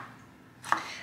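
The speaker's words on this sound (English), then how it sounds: "I'm chopping mine in these little like tiny circles or like slices." A knife slices through a jalapeño on a cutting board, one short crisp chop after a quiet pause, close and clear.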